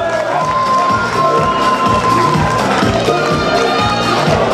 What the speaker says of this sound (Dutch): dus gewoon een groot applaus voor Nolf